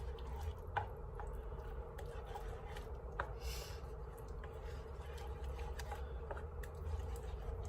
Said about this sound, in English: Just stir that in until it's all absorbed and it's made the paste much runnier.